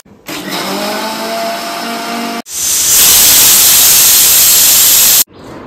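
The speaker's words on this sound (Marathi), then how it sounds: "तांदूळ वाटून घेऊया।" A mixer grinder grinds soaked rice with a little water into a thin batter for Goan ghavane, running loud and steady, then surging even harsher and brighter before cutting off abruptly.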